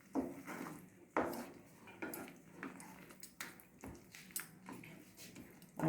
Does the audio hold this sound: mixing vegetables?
yes